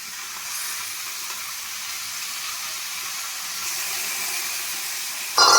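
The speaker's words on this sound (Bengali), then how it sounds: "এবারে আমি চিকেনগুলো একে একে দিয়ে দেবো।" Chicken pieces dropping one by one into a pan with capsicum, a steady soft sizzle and hiss of frying throughout, with a louder clatter right at the end.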